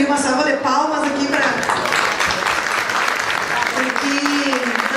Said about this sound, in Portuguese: Eu queria uma salva de palmas aqui